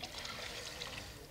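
Coconut milk pours in a soft continuous trickle into a Kerala-style prawn roast, a faint, even liquid rush with no talk.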